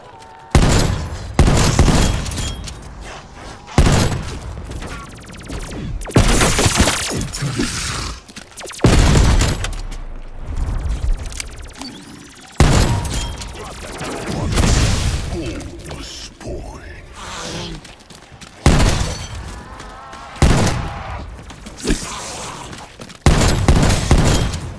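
Hand cannon gunfire in Call of Duty Cold War Zombies: a rapid series of loud, close, sharp blasts at irregular intervals, mixed with impacts and game effects, with voices talking in between.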